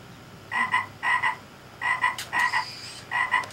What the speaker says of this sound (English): Oh, that's a frog.